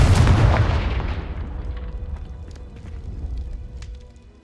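A Confringo fire spell explodes in the video game Hogwarts Legacy: one loud, close blast that rolls away into a long rumbling decay with scattered debris crackles.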